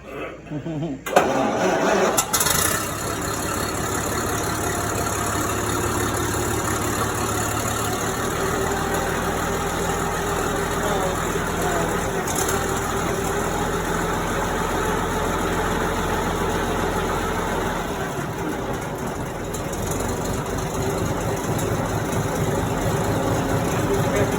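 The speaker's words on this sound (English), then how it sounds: "You normally start the car on battery and you flip it over to magneto once it's running." An old car switched over to battery ignition cranks and catches, then settles into a steady, rumbling idle that runs on evenly while someone talks over it.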